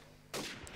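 A single sharp gunshot cracks out in a competitive Call of Duty 4 ProMod match, sudden and fairly close, followed by a brief ringing tail.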